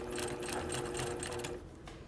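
A sewing machine runs steadily, stitching fabric with a dense mechanical whir and fast needle chatter that holds evenly before easing off near the end.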